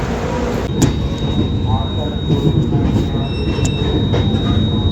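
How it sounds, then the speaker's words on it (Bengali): The Ara-Durg Express passes at Asansol junction, heard from an adjacent train as a loud, continuous rumble of wheels and carriages with faint metallic squeals and clanks, while someone talks over it. "আর এইদিকে চলে এসেছে হচ্ছে আরা দুর্গ এক্সপ্রেস।"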